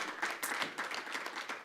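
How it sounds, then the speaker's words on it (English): Applause from a small audience at a fireside chat on livestock and farm-to-fashion, a brief burst of scattered claps, close and moderately loud, with no voices over it. "Please give me a round of applause."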